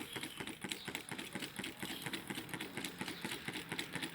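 A small homemade Stirling engine runs steadily with a fast, even mechanical ticking and a faint parasitic rattle, close and alone without any voices.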